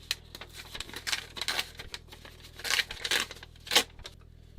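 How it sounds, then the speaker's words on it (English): Paper is torn away from machine-sewn fabric after a button loop exercise, giving several bursts of ripping and crinkling at close range, the loudest near the end, with no talking. "At this point, I can go ahead and take the paper out."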